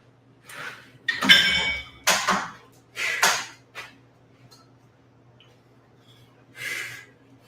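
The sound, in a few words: dumbbells clinking during workout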